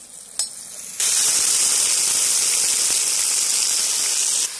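Meat hits hot oil in a kazan for plov cooked over a campfire, bursting into a loud, steady sizzle that holds for several seconds after a brief clatter, with no talk.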